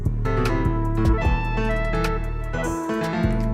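A hip-hop beat built in GarageBand with a flute melody opening on a triplet, over deep bass and crisp hi-hats in a loud, dense loop.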